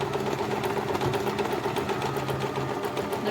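A sewing machine runs steadily, stitching fabric for an Easter bunny toy, with a close, continuous rapid mechanical whir and needle chatter.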